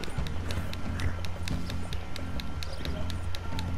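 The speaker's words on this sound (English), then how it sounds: "I just hopped on an invisible horse." Rapid hoofbeats of a galloping horse in Red Dead Redemption 2, a steady clip-clop rhythm running throughout, close and fairly loud over a low rumbling background.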